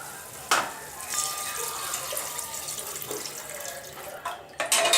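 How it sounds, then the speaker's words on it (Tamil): Water is poured into a cooking pan for prawn biryani, giving a splashing, trickling pour with small bursts and drips, fairly close and moderately quiet, without any speech. "இப்போ நம்ம வந்து தண்ணி விட்டுக்கலாம்."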